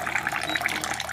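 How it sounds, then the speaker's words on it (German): Hot water runs steadily from a countertop reverse osmosis water dispenser in a continuous, close hiss of pouring liquid with no voices over it. "Und jetzt bringt er sofort heißes Wasser."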